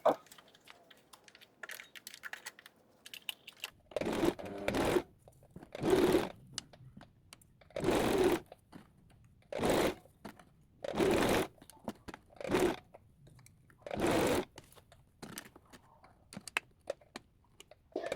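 Sewing machine stitching a woman's dress pinned with dressmaker pins, a series of about ten short whirring bursts with brief pauses between them, fairly close and clear, with faint handling noise in the gaps.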